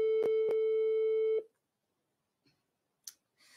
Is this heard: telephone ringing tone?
yes